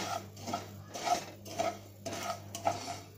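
Semolina roasting in hot ghee in a pan is stirred with a utensil, giving soft scraping and clinking strokes that come in irregular bursts, with no talking.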